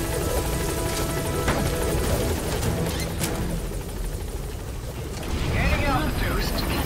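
Helicopter Pequod arriving at the landing zone in Metal Gear Solid V, a steady loud rotor roar filling the whole stretch, with game radio voices and other effects over it.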